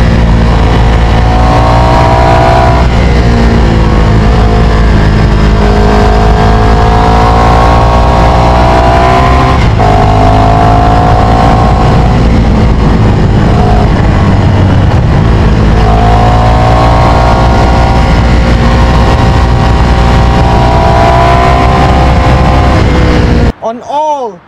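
A Ducati Streetfighter engine roars loud and close, revving up and down in repeated swells before cutting off near the end.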